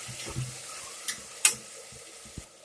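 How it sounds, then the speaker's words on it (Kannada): Cashew pieces added to hot oil in a pan begin roasting with a faint, close sizzle, broken by a few sharp clinks and stirring taps. "ಈಗ ಗೋಡಂಬಿ ಚೂರನ್ನು ಹಾಕ್ತಾ ಇದ್ದೀನಿ"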